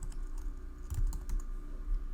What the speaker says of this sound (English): and I'm going to type in blur.